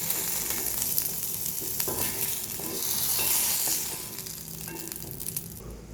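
Fried okra stirred into simmering sambar pieces in a pot, a close, busy mix of sizzling and scraping that swells briefly in the middle, with no voices.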